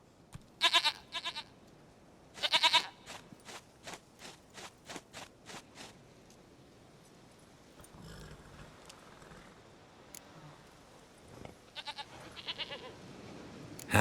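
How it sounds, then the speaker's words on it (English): A goat bleats in The Witcher 3: Wild Hunt, with sharp, nasal cries coming in separate bursts over a quiet background. Softer bleats and light noises follow later. "Goat of mine, dearest, sweetest goat."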